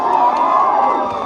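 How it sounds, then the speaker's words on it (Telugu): A large crowd at a political rally in Khammam cheers and shouts together in a dense, loud, continuous roar, without separate claps standing out. "వారికి గట్టిగా ఒకసారి చప్పట్లు కొట్టాలి అందరం కూడా."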